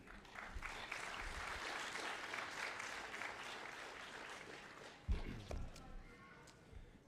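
An audience at the opening ceremony of Sunshine Coast City Hall gives a sustained round of applause, fairly distant and soft, thinning out toward the end with a few scattered claps and faint voices.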